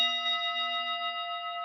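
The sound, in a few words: gong being struck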